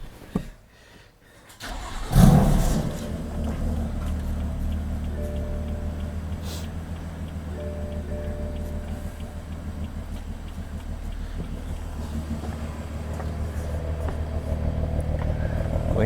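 A BMW F80 M3 starts up with a sharp crank and burst, then settles into a steady, deep idle that holds for the rest of the clip, close and fairly loud.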